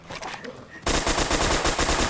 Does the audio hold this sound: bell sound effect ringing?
no